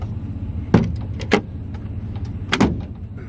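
The hands-free Multi-Pro tailgate of a 2022 GMC Sierra 2500HD pickup lowers, giving a few sharp mechanical clunks and latch knocks over a low outdoor rumble, near and fairly loud.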